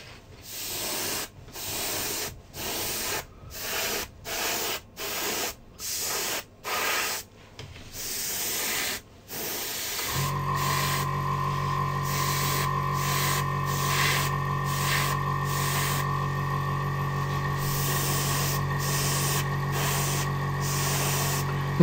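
Short bursts of AK Real Color paint hissing from a spray gun in quick light passes, then a steady continuous spray hiss with a low compressor drone underneath, close and fairly quiet.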